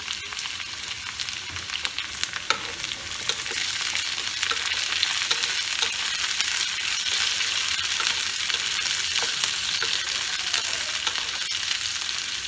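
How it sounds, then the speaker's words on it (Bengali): Green beans and potatoes frying in oil in a pan, a continuous loud sizzle with occasional stirring clicks, close up and without talking. "দেখুন আমার বিনসও ভাজা ভাজা হয়ে এসছে, এবার এটাকে আমি তুলে নেব।"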